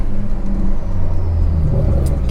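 A Stage 2 tuned BMW 340i driving at night, heard from inside the cabin as a loud, steady low engine rumble with road noise that rises slightly in pitch as the car pulls.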